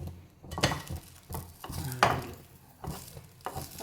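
Bread fries in a pan with sliced onion, giving soft sizzling under scraping and pressing sounds from a utensil, a few sharper clinks against the pan, close and fairly quiet with no speech.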